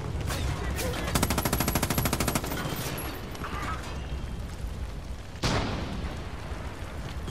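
Mortar blasts and gunfire in a Far Cry 5 custom Chicago map: a sustained rattle of rapid shots, then a sharp, loud explosion near the end over continuous battle noise, with no talking.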